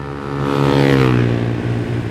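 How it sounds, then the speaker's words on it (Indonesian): A loud motorcycle exhaust revs up and holds, its pitch rising then settling into a rough, throaty drone, close by. "berisik banget tuh knalpot"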